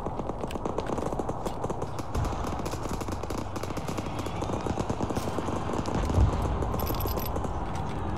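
Autocannon fire from a BTR armored vehicle in Arma 3, a steady stream of rapid, booming shots rolling on for the whole stretch, loud and dense, with the bursts blending into continuous firing.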